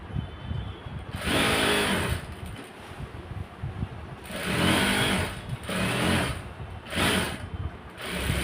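A sewing machine stitches a pocket on straight-cut pants, running in several close, whirring bursts separated by short pauses.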